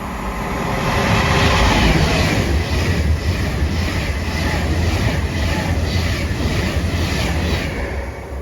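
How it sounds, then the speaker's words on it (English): Avanti West Coast Pendolino from London Euston to Manchester Piccadilly passing through a North Staffordshire station on a West Coast Main Line diversion, a loud, sustained rushing roar with rhythmic wheel clatter that swells and fades slightly. "about to pass through is going to be Avanti West Coast Penderyn running from London Euston to Manchester Piccadilly via Macclesfield"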